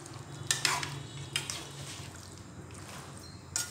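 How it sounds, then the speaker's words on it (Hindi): Chicken being stirred with salt and red chilli in a pan, a soft frying sizzle under several scraping strokes of a spoon against the pot, moderately close, no talking. "अच्छी तरह मिक्स कर देना"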